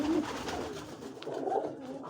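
Soft pigeon coos, a couple of low murmuring calls close by, with faint background noise between them.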